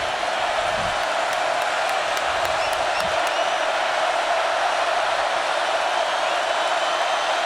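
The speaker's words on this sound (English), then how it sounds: "And now this crowd is roaring" Dense, steady roar of a large stadium crowd at an LSU Tigers at Florida Gators college football game, a continuous broad wash of noise with a few faint whistle-like tones near the start and no break for the full stretch.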